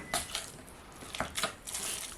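Stuffing being mixed with cabbage by hand in a bowl, giving soft, moist squelching and crushing sounds in a few separate bursts, close and fairly quiet, with no talking.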